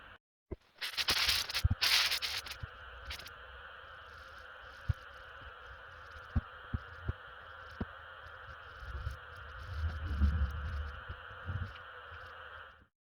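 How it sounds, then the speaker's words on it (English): Sandpaper rubbing over new hardwood shovel handles, a few loud scratchy strokes at the start followed by a softer steady rasp with scattered sharp knocks and a low rumble, close by and without talk. "give them another sand and probably give them another coat"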